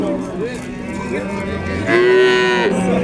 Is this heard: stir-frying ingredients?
no